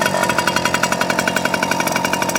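A small Suzuki JR50 motorcycle engine runs after starting, a buzzy high-revving two-stroke drone with a rapid steady pulse, close and fairly loud.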